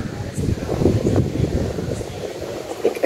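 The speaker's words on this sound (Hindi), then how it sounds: "आप लोग देख सकते हैं बड़ी कोई प्यारी हवा चल रही है" Cool wind blowing across a home balcony on a hot day before rain, a steady breezy rush with microphone buffeting, with someone talking over it.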